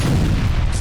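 An explosion from a drone attack on a Russian military airfield in Kursk: a loud, dense low rumbling boom filling the short moment, with no talk over it.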